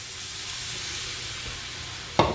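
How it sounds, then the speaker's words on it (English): Dry Chardonnay poured into a hot pan over chicken, giving a steady broad sizzle with a sharp hissing burst near the end. Close by, with no talk. "Now we're gonna go ahead and add about 2/3 cup of a dry wine."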